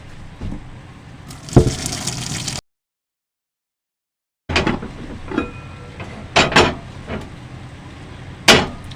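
Hot water and boiled potatoes pouring out of a pot into a sink, a splashing gush, then a short gap, then clanks and knocks of the pot and colander, close.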